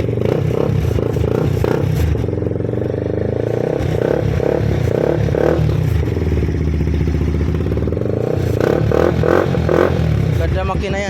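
A 2019 Bajaj Pulsar NS 160 motorcycle engine runs close by, a loud steady idle with rhythmic mechanical clatter and slight rises in revs, while someone talks over it.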